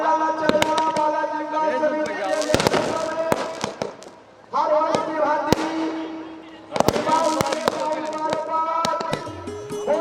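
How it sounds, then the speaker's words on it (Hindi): Fireworks bursting repeatedly with sharp cracks and booming pops, layered with crackling, alongside a loud continuous tonal background like music or festival noise. "देखिए भव्य आतिशबाजी।"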